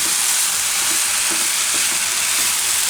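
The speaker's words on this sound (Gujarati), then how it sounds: "થોડીક વાર આમાં પકાવી લઈએ વચ્ચે વચ્ચે હલાવતા રહે" Onion and potato curry sizzling steadily in a pan as it is stirred, a constant loud frying hiss with faint scraping taps of the spoon, no voices.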